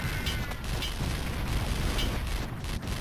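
Explosions in the war-themed level of Thrillville: Off the Rails, with dense, rumbling blasts and booms rolling continuously at moderate loudness, sharper bursts flaring near the middle and end.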